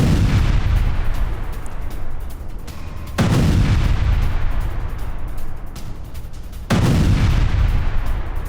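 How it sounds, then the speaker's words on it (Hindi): Heavy blasts and gunfire from an attack near Beirut Airport in Lebanon, with deep booms striking at intervals over a continuous rumbling, crackling barrage, loud and distorted, with no voices. "ये देखिए जरा, लोग भाग रहे हैं और ये अटैक चल रहा है वहां पर"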